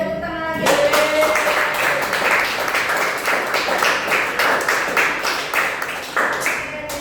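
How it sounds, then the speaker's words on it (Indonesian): Students in a classroom clap together after a group presentation, a burst of scattered hand claps that carries on for several seconds at moderate loudness. "Berikan tepuk tangan lagi."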